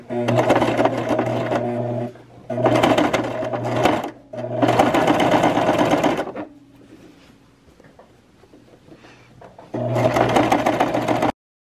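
A sewing machine stitches a dress made from thrift store sheets, loud and close, running in several bursts of about two seconds each separated by short pauses, with faint quieter handling between runs.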